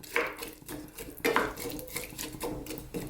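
A pot handled on the stove and covered with its lid while potatoes simmer for a Filipino pork sausage and egg dish, giving a few clanging metal knocks and scrapes, with one sharp clatter near the middle.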